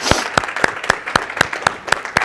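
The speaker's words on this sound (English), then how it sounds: "Do me a big favor, big hand of applause." Audience clapping at a health talk comes through as a sparse, rhythmic series of sharp, evenly spaced claps, close and fairly loud, about nine in a row without talk.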